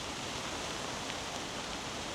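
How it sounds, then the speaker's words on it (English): Heavy soaking rain with gusting wind outdoors, a dense, steady roar of rainfall close by with no pauses. "There's a big gust coming, really soaking rain out there"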